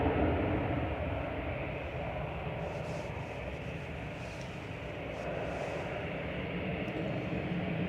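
EasyJet airliner departing Manchester Airport, a continuous distant jet roar with deep rumbling low end, fading slightly after the start and then steady, no talking.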